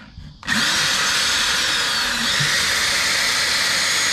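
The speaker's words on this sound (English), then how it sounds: "Drill." A Ramset hammer drill's motor, under repair, starts abruptly and runs close and loud. It holds a steady, high whining drone for about four seconds.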